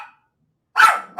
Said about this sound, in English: What's the big dog out there?